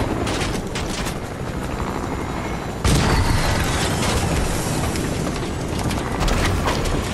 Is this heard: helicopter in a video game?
yes